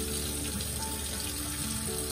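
Crochet doily being vigorously washed by hand in a sink of water with a squirt of Dawn dish soap, a steady continuous sloshing and running-water wash with no talking.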